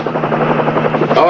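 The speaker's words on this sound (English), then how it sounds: "the highway patrol helicopter landed" A landing highway patrol helicopter's rotor thumps in a fast, steady rhythm, loud and close, with a voice speaking over it.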